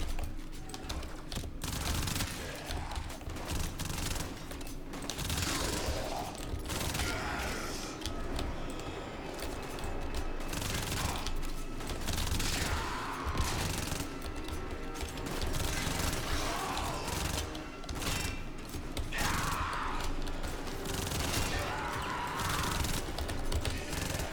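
MK1 Braton rifle fire in Warframe, a dense, continuous stream of rapid shots rattling steadily throughout with occasional impact crashes mixed in.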